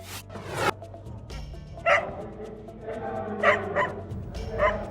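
A pet cocker spaniel barks several times in short, sharp bursts with pauses between, close and fairly loud, alone without talk.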